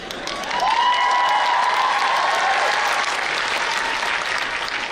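Theater fans clapping at a BroadwayCon 2019 panel with the Broadway cast of Harry Potter, a full, dense burst of applause swelling quickly and holding strong, with a faint tone running beneath.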